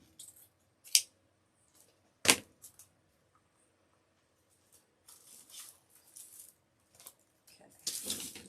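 Scissors snipping grapevine wreath materials at an angle, a few sharp crisp cuts with quiet gaps between them, close and clear, followed by soft rustling of the stems.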